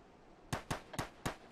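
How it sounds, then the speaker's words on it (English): Four sharp gunshots crack in an Arma military game set in the Falklands, spaced unevenly over about a second, fairly faint and distant-sounding with short tails and quiet background between them. "Shots fired to the full left north."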